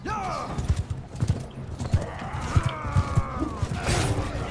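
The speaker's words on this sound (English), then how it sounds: "Cavalry charge. Cavalry! Cavalry charging." Horses thunder along in a cavalry charge in the medieval combat game Mount and Blade II: Bannerlord, with steady pounding hoofbeats, creaking gear and a neigh, mixed with shouts and battle noise.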